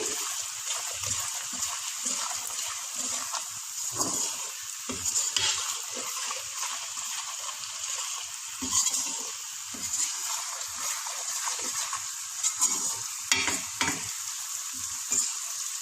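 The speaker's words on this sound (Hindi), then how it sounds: "नमक और खुश्क धनिया पिसा हुआ, इसको भून लेंगे।" Salt and ground dry coriander fry and sizzle steadily in a pan for biryani, a continuous hiss with occasional scraping stirs, close and even, no talking.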